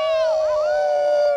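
A crowd of people outdoors at a charity event imitates a wolf howl together, one sustained loud wavering tone with rising and falling pitch, close and without ordinary speech.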